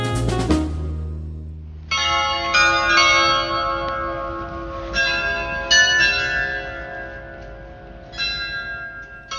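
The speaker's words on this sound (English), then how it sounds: "What you can hear in the background is the charming sound of the chimes of Loreta" Carillon bells of the Loreta in Prague, chiming in bright, ringing clusters of tuned strikes that repeat every second or two, each peal sustaining and overlapping the last, fairly loud and alone, with no voices.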